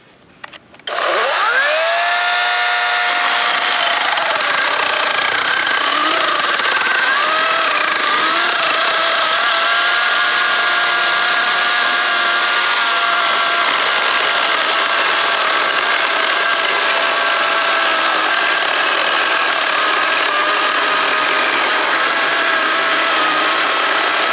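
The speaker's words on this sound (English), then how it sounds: "the DongCheng saw. Okay, this is firewood I use for kindling." DongCheng chainsaw starting up and then running loud and close as it cuts firewood for kindling, a sustained buzzing engine roar with shifting pitch as it bites into the wood.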